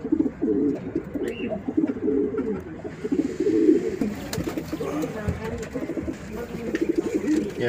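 Madras pigeons, including a green male, coo in a steady, continuous stream of low, rolling calls, with faint voices and chirps in the background.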